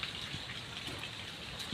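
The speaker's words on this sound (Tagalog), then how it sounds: "Hindi gaano kalakas yung ulan." Fine drizzle coming down on a parking area, steady and quiet, a gentle even patter of light rain without pauses or voices.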